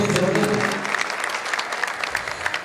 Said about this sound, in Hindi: एक जोरदार ताली भाई सबके लिए